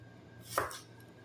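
A single sharp knife chop on a cutting board while preparing vegetables such as celery and carrots for a stir fry, one brief crisp thud standing alone over quiet background.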